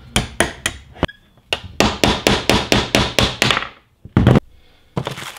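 Sharp metallic hammer taps drive a small metal bushing out of a rollerski, struck from the inside in two quick bursts of even, closely spaced blows separated by short pauses, close and loud.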